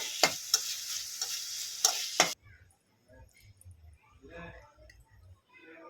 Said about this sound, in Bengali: এটাকে এবার আমি নাড়িয়ে ঠান্ডা করে নেব